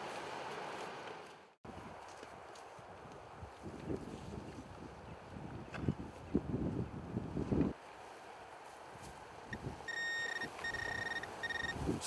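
While prospecting for gold, a metal detector over a buried dime gives a few short, repeated tonal beeps near the end, heard over wind noise and outdoor rustling.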